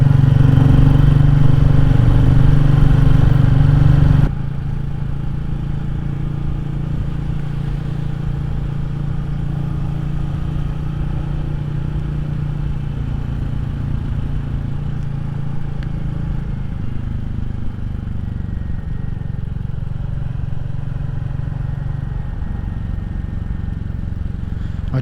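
A Royal Enfield Classic 350 motorcycle ridden on a quiet country road in Wales, its engine a loud, steady, low thump with wind rush throughout, louder for the first few seconds then settling into a constant cruising drone.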